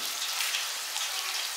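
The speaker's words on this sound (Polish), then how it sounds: "No i leci z tych tur woda, która wydaje dźwięki." Water runs through the sound-making pipes on the facade of a building in Dresden, a soft, steady patter and trickle like light rain that stays even throughout the brief stretch with no voices.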